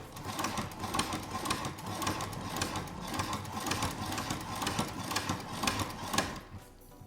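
A sewing machine runs steadily, stitching orange thread down the middle of fabric, its rapid mechanical needle chatter loud and close with a regular rhythm throughout before slowing at the end.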